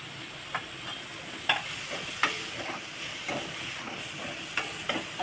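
Shredded cabbage sizzles in a hot pan for Chinese chicken chilli soup, with a steady frying hiss broken by several sharp scraping stirs of a spatula.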